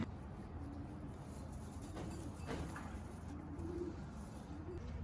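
Pigeons coo softly in low repeated calls over a steady background rumble, fairly faint and distant, with no talk.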